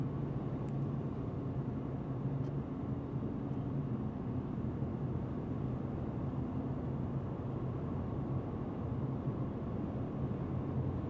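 Steady, even cabin road noise inside a 2025 Mercedes-AMG CLE 53 Cabrio driven in comfort mode: a continuous low tire-and-road rumble with a soft broadband wash over it, unchanging throughout, with no talking.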